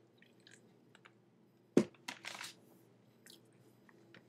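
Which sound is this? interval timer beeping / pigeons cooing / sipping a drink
sipping a drink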